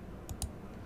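Two quick, faint computer mouse clicks close together, clicking a settings gear icon, against a quiet room background.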